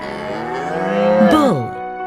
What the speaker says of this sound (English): Bull, bull.